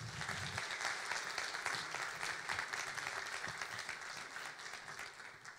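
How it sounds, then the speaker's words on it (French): Sustained applause from a conference audience at a closing session, dense, even clapping at a soft, distant level that carries on steadily throughout without speech. "je vous demande de l'applaudir"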